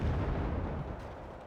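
Heavy rumbling blast and sustained low roar as a tank is destroyed by gunfire in the Cold War strategy game Wargame: Red Dragon, loud and dense, fading slightly toward the end with no talking.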